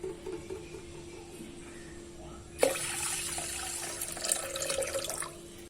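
Water poured into a bowl of urad dal in a home kitchen, a sudden splashing gush starting partway through and running steadily for about three seconds, close and moderately loud.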